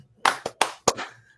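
Sharp hand claps in a short burst of four, evenly spaced and close, with a quick echo trailing after each one and no talking over them.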